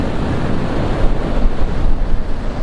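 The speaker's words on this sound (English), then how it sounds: "You can see the waves." Loud ocean waves wash continuously against the shore in Batanes, a broad roar of surf with wind buffeting the microphone, close and unbroken, with no voices.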